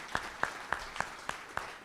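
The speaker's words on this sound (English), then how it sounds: "I think she thinks everybody's clapping for her." Scattered, sparse claps from a gala audience, about seven distinct slaps at a steady rhythm, fairly faint in a roomy hall, with no voices over them.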